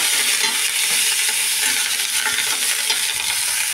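Mustard seeds, cumin, dried red chilies and curry leaves sizzle steadily in hot oil as a tempering for brinjal-tomato chutney, a dense, constant crackling hiss close by with no voices.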